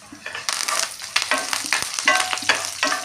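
Cumin, mustard seeds, urad dal, dried red chillies and curry leaves sputter and sizzle in hot oil for a coconut banana-stem fry, with close, steady crackling and spatula stirs throughout and no talking.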